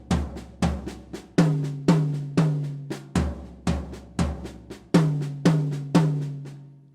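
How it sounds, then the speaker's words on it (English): Drum linear fill with right-hand accents on the floor tom and left-hand strokes on the tom, a fast repeating pattern of sharp, ringing hits close up, heard alone. "the accent hand on the floor tom and my left on the tom, it will sound like this."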